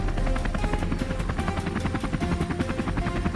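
A compact helicopter's steady rotor thump and engine drone, loud and close, continuous throughout with a rapid rhythmic chop.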